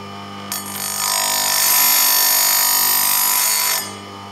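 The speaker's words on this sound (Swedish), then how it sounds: "man kan starta maskinen för ett prov." A Logosol chainsaw chain sharpening machine runs a brief test, a steady high-pitched motor whine with a grinding hiss that starts abruptly, holds for about three seconds, then cuts off, under a constant low hum.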